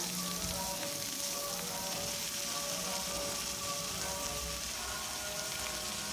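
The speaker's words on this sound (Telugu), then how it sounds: "కరివేపాకు కూడా బాగా ఫ్రై అయింది" Shredded cabbage and curry leaves fry in a pan with a loud, steady sizzle and crackle that runs unbroken the whole time, with no voices.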